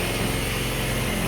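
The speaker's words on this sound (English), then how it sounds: "using a sawzall, excellent for sawing holes in perfectly good walls" A sawzall reciprocating saw cutting a hole through a wall, a steady, dense buzzing drone held close and loud throughout the brief moment, with no pauses.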